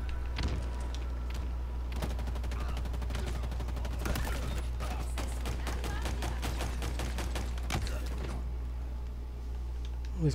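Rapid bursts of synthetic gunfire in Halo Infinite rattle in quick volleys over a low steady hum, with a few louder single shots mixed in.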